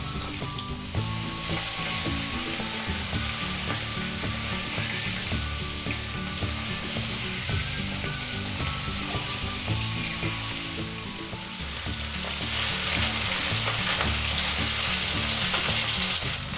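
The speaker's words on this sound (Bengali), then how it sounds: "উল্টে পাল্টে ভালো করে ভেজে নেব।" Fish head being turned over while frying in oil, with a continuous loud sizzle and intermittent scraping of a utensil against the pan, close up and without talk.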